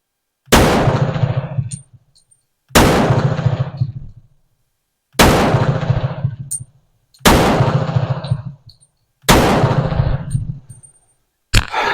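Five sharp, loud pistol shots from a Steyr Hahn model 1912, fired one at a time about two seconds apart. Each crack rings out and decays into the surroundings, followed by the start of a sixth.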